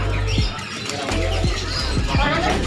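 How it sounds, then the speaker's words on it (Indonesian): Local zebra doves (perkutut) at a bird market in Pemalang give a few low, soft coos, spaced about a second apart, amid market background noise and nearby voices. "Ya, ini untuk perkutut lokalnya sobat."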